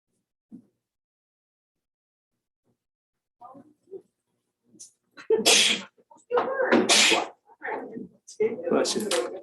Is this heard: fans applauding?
no